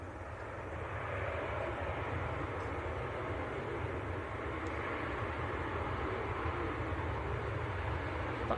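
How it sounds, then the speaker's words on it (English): A Jet2 passenger airliner arriving from Porto at Manchester Airport gives a steady, distant engine roar that holds evenly throughout with no voices. "that is Jet2 from Porto"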